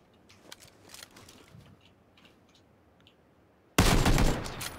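Gunfire in a battle royale video game: faint scattered shots at first, then a sudden loud, dense burst of rapid fire near the end.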